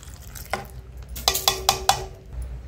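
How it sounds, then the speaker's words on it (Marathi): A spoon stirs black chickpea curry in a metal pot, giving several distinct scraping clanks in an irregular rhythm, close and fairly loud, with a faint background hum and no voices. "याला एक चांगला हलवून घेऊ।"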